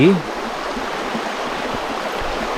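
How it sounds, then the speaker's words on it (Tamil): A large river runs past in Vang Vieng, Laos, giving a steady rushing wash of flowing water, with a short high vocal sound at the start. "இந்த பாருங்க தண்ணி எப்படி ஓடுது பாருங்க பெரிய ஆறுங்க எனக்கு முன்னாடி"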